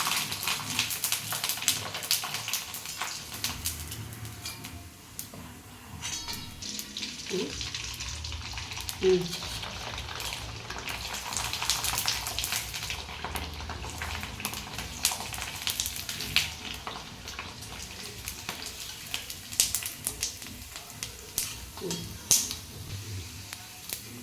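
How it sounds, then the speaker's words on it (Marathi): Homemade kurdai crackle and sizzle in hot oil over a steady frying hiss, with a few clinks of utensils and a person talking now and then. "आता आपण फ्राय करू तेल तापलंय तोपर्यंत आपण कुरडे तळून घेऊ"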